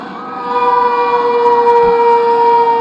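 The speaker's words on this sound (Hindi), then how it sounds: "इस सूचना का प्रसारण हम सायरन बजा करके करते हैं।" A civil defense air raid siren wails steadily and loudly during a blackout mock drill in Lucknow, a sustained rising tone holding close and alone with no voices.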